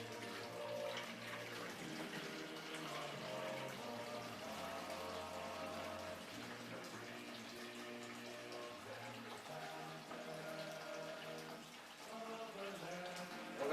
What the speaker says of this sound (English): And then we take the liquid gold and pour it into the tap right here.